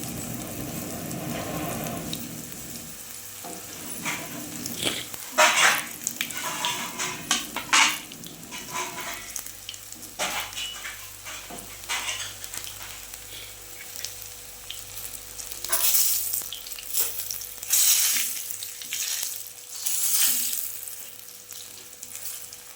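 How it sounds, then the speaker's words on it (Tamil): Raw banana slices fry in a pan over low heat, a steady close sizzle with occasional stirring scrapes and utensil clinks against the pan, no voices. "சிம்மில் வச்சு அதை பொரிக்கணும்."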